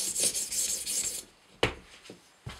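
A Spyderco Paramilitary 2 knife with CTS-20CP steel is stroked across a 600 grit stone on an Edge Pro sharpener: several quick, close rasping strokes, then a pause and a couple of single scrapes.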